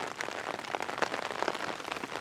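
Steady rain falling outdoors around a chicken coop, a dense, even patter of drops with no voices over it.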